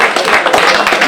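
Brief, close clapping at a community association's founding meeting in Europe, a quick run of sharp claps lasting about a second.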